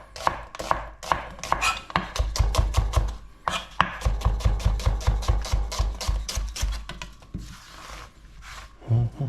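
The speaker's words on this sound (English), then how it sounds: "I'm going to slice the onions and everything else." Rapid knife chops slice through onions on a cutting board, a dense steady run of close, sharp taps that pauses briefly near the end.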